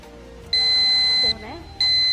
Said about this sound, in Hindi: फिर आपने बजर दबाया है